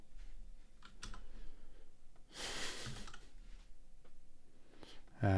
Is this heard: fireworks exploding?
no